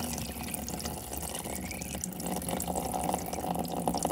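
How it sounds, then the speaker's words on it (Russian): Water rushing steadily and loudly out of a leak at a 2021 BMW 5 Series G30, a continuous broadband gush that stays constant from start to finish with no voices. "Ого, воды."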